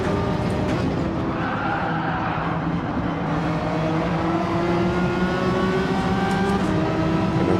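A Citroen race car engine in Gran Turismo 7 at Trial Mountain drones loudly and steadily throughout, its pitch climbing as it accelerates, with no talk.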